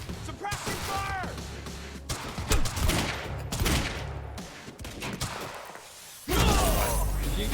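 Gunfire from the video game Quantum Break: bursts of automatic fire and heavy impacts rattle on and off throughout, loud and close, mixed with voices and other game sounds.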